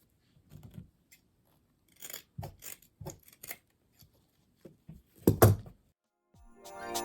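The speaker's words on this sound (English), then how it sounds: "we're going to cut triangles in each of the ends." Scissors cut triangles into the ends of material for a Christmas curly wreath craft. Quiet, close snips and clicks come in scattered short bursts separated by silences, with one louder snip near the end.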